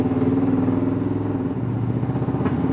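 Chevrolet K1500 pickup truck with a newly replaced fuel pump pulling away under moderate throttle, a steady, close, rumbling engine note that rises slightly in pitch as the truck accelerates, with no talk.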